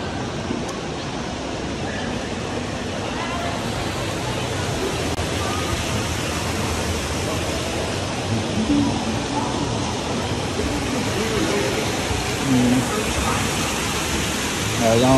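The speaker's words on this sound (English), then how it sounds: "Y'all on a waterfall right here." An indoor waterfall inside an airport terminal pours in a steady, even rush of falling water that fills the space without a break, with faint voices buried in the background.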